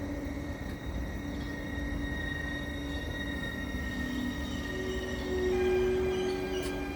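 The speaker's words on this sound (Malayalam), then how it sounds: "എത്ര കുട്ടപ്പനായ ഒരു ട്രെയിൻ." An electric passenger train runs through Swiss countryside at night, a steady droning hum and rumble with faint wheel squeal and a slight swell in loudness toward the end.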